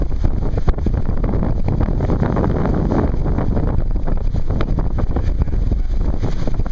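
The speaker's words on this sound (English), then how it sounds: "And we're motoring." A ProSail40 racing sailboat motors under engine power, its hum blended into a loud, constant rush of wind and water noise across the microphone.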